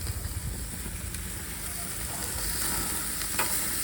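Marinated chicken sizzles loudly on a grill in the Philippines, a dense continuous frying hiss that holds steady throughout with no talking.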